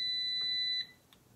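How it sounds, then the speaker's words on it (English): An AirFryer XL Pro Vortex 10-quart air fryer sounds its timer alert at the end of cooking: a loud, sustained high electronic beep that cuts off abruptly, followed by a faint short blip in a quiet kitchen. "Now it's beeping."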